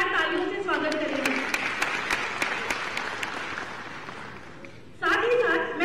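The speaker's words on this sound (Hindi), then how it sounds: "एक बार जोरदार तालियों से स्वागत करेंगे।" A crowd at an event with Chief Minister Shivraj Singh Chouhan in Bhopal breaks into loud, sustained applause for several seconds, with a voice speaking just before and again right after.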